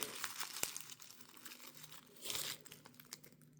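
Paper crinkling and rustling as a small item is drawn out of a little paper envelope of WW1 and WW2 militaria, with a sharp crackle near the start and a denser burst of crumpling later, close and fairly quiet.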